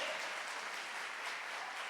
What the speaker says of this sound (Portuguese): Você pode aplaudir essa verdade.